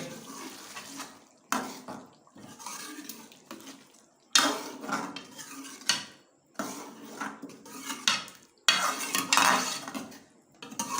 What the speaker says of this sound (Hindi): इसमें हमें ये दही, 1 प्याली दही भी डालेंगे और इसको अच्छे तरीके से मिक्स करेंगे